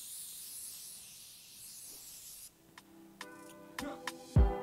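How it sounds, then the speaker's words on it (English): A face mist spray hisses in a single steady burst for a couple of seconds, then stops and gives way to a few close clicks and small handling knocks. "I'm going to spray your face."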